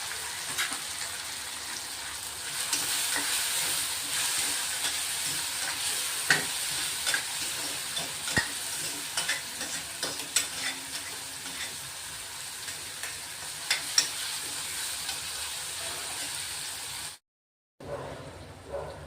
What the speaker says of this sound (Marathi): टोमॅटो, मिरची, लसूण चांगले परतून झाले बघा.